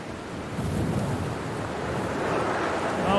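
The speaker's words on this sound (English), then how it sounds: "Oh, it's windy." Steady overcast wind blowing across open ground in the game Dear Esther, a broad continuous rushing hiss that slowly builds in strength, with no talking over it.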